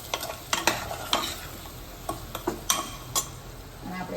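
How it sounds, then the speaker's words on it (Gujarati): A spoon stirs spices into an onion and potato curry in a pan, making a series of quick scraping strokes and taps over a soft, steady sizzle, close up with no voices. "મસાલો બધું જ આપણે અંદર મિક્સ કરી દેવાનો છે"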